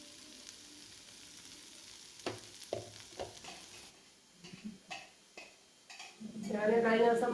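Crushed red shallots frying in a pan, with scattered scrapes and knocks of stirring building into a loud, steady sizzle near the end; close and alone, without talk.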